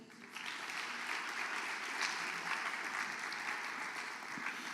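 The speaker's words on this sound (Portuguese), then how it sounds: "Dê um aplauso ao Senhor." Sustained applause from a church congregation during a sermon, steady and dense from start to finish, filling the room with no voices over it.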